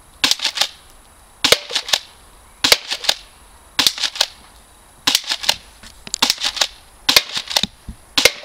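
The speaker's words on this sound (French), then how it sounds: "je tire des billes de 23 grammes" A tactical airsoft shotgun replica firing 0.23 g BBs gives sharp, loud cracking shots, often in quick pairs or triplets, separated by brief silences across the clip, close up and without talk.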